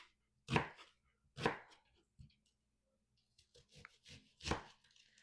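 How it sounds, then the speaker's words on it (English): Several sharp knife chops through a purple onion on a cutting board, spaced irregularly, with a few softer taps between them. Nobody speaks. "Purple onion. I'm just going to chop it up in pieces"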